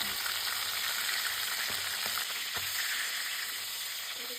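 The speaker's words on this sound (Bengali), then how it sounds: "কড়াইতে তেল দিয়ে গরম করে হলুদ লবণ দিয়ে মাখিয়ে রাখা চিকেনগুলো ভেজে নেব" Chicken pieces coated with turmeric and salt fry in hot oil in a wok, giving a steady close hiss and sizzle with a few sharp crackles and pops throughout.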